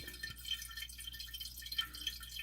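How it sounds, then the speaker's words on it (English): Water drips steadily inside a running toilet tank with the supply shut off, a faint, close, irregular patter of small drops and trickle with no voices. "you hear the water still dripping."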